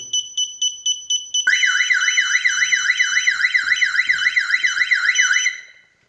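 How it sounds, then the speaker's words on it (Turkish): A Teknim burglar alarm system beeps rapidly a few times, then a loud warbling siren wails continuously before cutting off. "alarm ve buradaki aydınlatma aktif hale geçecek"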